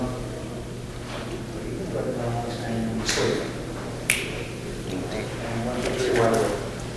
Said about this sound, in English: That was a finger snap reinduction